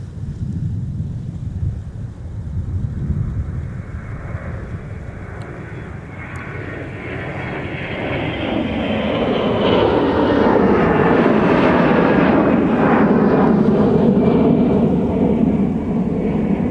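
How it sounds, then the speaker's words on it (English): A Delta airliner departing on takeoff, its jet engines a broad rumbling roar that builds and swells louder as it climbs past, mixed with wind buffeting on the microphone. "we're getting a departure coming our way. This is going to be Delta 2732 headed to New York LaGuardia"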